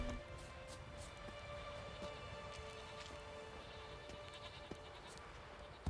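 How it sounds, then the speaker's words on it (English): Faint goat bleats in The Witcher 3: Wild Hunt sound now and then over a constant hiss like rain, quiet and distant with no talking. "Lots of goats."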